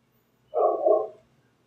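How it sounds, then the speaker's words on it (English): A single dog lets out one short, mid-pitched bark-like yelp, fairly close and clear against a quiet background. "you hear that dog chewing? That dog talking shit?"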